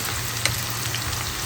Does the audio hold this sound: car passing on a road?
no